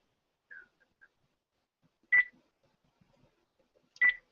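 Call-in line with telephone keypad tones: a few faint blips, then two sharp, isolated electronic beeps about two seconds apart against near silence.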